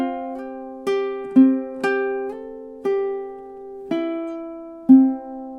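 Two measures of a soft ukulele lullaby played in time, a steady run of about six plucked notes and chords with slides between some, ringing clearly and close with no talking.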